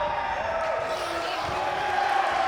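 A large crowd at a live wrestling show roars in a steady, dense wash of cheering, heard from within the arena at moderate loudness, with a faint commentator's voice underneath.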